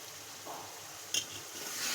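Drumstick (moringa) leaf mash frying in oil, a soft sizzle with a short scrape of stirring midway, close and fairly quiet.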